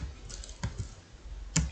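Soft keystrokes tap on a computer keyboard, a few scattered clicks with a louder one near the end, faint and close in a quiet room.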